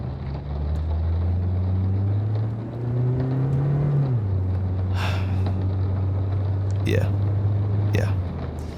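A car drives along at low speed, its engine holding a steady low hum that rises briefly and then drops as it shifts, with a couple of faint soft knocks near the end.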